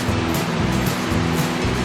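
Water flowing steadily at Wang Kan Lueang waterfall, a continuous broadband rush that holds the same level throughout without pauses and with no voices over it.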